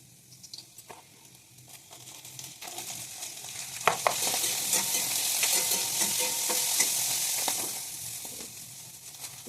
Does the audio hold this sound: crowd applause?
no